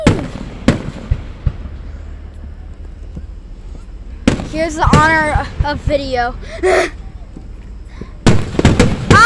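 Fireworks burst in loud, sharp bangs at a backyard display, with a few cracks early, a cluster of crackling pops midway, and heavy booms at the end, while people talk and exclaim between blasts.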